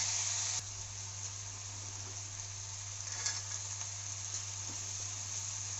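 Potatoes frying in a pan with turmeric, a steady faint sizzle and hiss with occasional soft stirring scrapes, heard close and alone.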